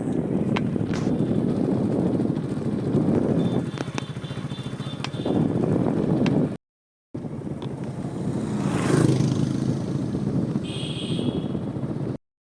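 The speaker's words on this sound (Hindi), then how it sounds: "बाइक यात्रा।" A motorbike on a pilgrimage ride to Hanumangarhi hums along at a steady pace with wind buffeting the microphone, engine rising and falling, cut by a brief silence before riding noise resumes.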